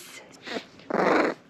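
Four-week-old puppies give two short, raspy growls, a brief one followed by a longer, louder rumble, close to the microphone and with no speech.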